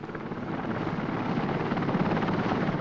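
Steady close rotor and turbine roar inside a helicopter flying offshore over the North Sea, loud, constant and continuous with no talk.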